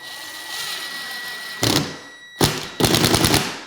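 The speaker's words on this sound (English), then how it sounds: "I'm gonna take some 1¼ drywall screws and I'm just gonna screw them in right here." A drill driver sinks 1¼ inch drywall screws into wooden window casing in three short, loud ratcheting bursts, each under a second, separated by brief pauses over a quiet background hum.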